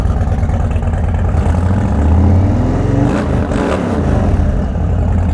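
A custom Indian Sport Chief motorcycle engine runs close by, a loud, steady low rumble that thickens briefly as it revs, with no voices over it.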